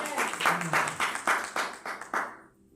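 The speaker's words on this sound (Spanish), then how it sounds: "Gracias por ese aplauso" An audience at a church gathering claps in a burst of roughly eight distinct strokes, loud and nearby, stopping abruptly and leaving quiet behind.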